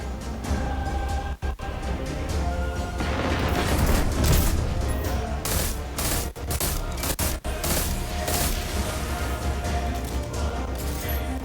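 Dense, continuous rumbling blasts and crackling bursts overlap for several seconds, with heavy booms and sharp impacts, loud and close, without any voices.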